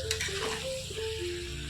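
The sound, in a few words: water added to red amaranth stalks sizzling in a pan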